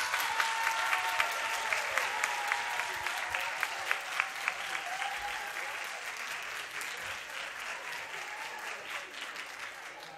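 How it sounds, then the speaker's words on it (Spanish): Steady applause from a crowd at a FIRST LEGO League robot game event, greeting the robot team Torrebot, with dense clapping holding evenly throughout at a moderate distance. "Por favor, un aplauso para ellos."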